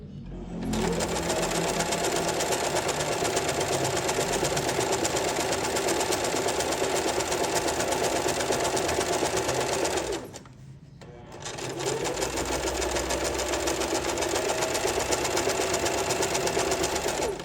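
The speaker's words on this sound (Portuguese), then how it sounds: "E vai costurar até que chegue com a agulha na distância do risco que você fez" A sewing machine stitches a buttonhole without a buttonhole foot, a loud, fast, steady mechanical whir that runs for about ten seconds, stops briefly, then resumes at the same pace, close and alone.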